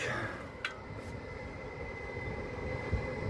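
A Vienna S80 commuter train passes near Seestadt on a rainy day, heard as a steady, fairly loud rumbling roar that fills the whole stretch with no break.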